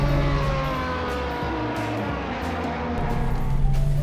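A 1970s Ford Capri RS 2600 engine runs steadily with a deep, throaty rumble and rising revs toward the end, loud and close, with no one speaking.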